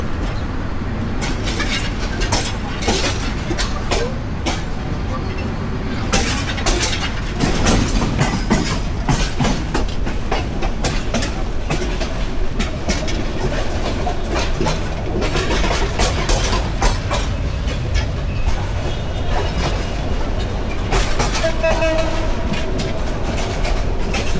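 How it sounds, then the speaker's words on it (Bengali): Kurigram Express passenger train in Bangladesh running at night after leaving Dhaka Airport station, a loud, steady rumble with rhythmic clickety-clack of wheels over rail joints throughout. "10:05-এ আমাদের কুড়িগ্রাম এক্সপ্রেস ঢাকার বিমানবন্দর স্টেশন ত্যাগ করব।"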